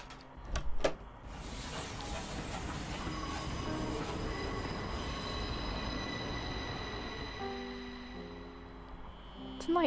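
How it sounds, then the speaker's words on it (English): A night train from the game The Charnel House Trilogy rumbles past, its wheels screeching and squealing in drawn-out metallic tones over a heavy continuous roar, then easing off and fading. "Night train. It just disappears."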